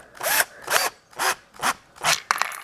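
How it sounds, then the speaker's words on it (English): A power drill whirs in five short bursts with brief pauses between, loud and close, then a final grinding burst as the bit bites. "So I'm going to go ahead and drill a hole"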